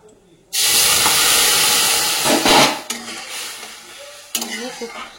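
Milk pours into a hot pan with a sudden loud hissing sizzle that gradually fades, followed by a few clinks of a utensil.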